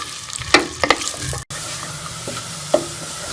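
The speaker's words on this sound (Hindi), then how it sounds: "प्याज डालने के बाद हम इसे गोल्डन कर लेंगे।" Onions frying and browning in a pan for a chicken and bottle gourd curry, a steady sizzle beneath a few sharp spatula stirs and scrapes, close and fairly loud, with no talking.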